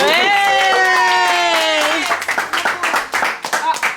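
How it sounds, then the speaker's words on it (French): A small group at a family Christmas and birthday gathering claps for Jamila. Sustained singing or voices come first, then the clapping breaks into uneven, close bursts over the last couple of seconds. "On peut sûrement aussi remercier et applaudir Jamila"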